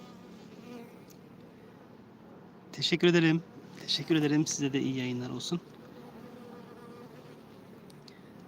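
A bee on a fingertip buzzes steadily throughout, while a person speaks briefly in the middle and the buzz carries on afterward.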